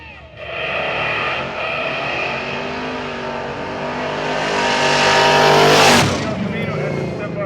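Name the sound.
drag racing cars, yellow El Camino and red Model A coupe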